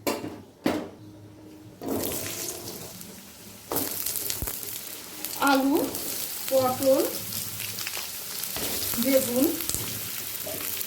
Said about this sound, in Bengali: এই তিনটে জিনিসে আগে একটু ভেজে নেব কুমড়ো আলু পটলটা